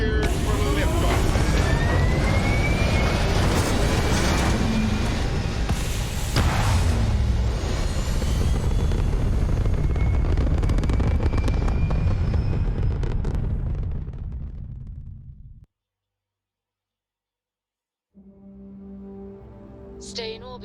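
Spaceship lifting off in the game Starfield: a loud, sustained, roaring engine blast with rising whining tones that builds, fades, drops to brief silence, then gives way to a steady low cabin hum.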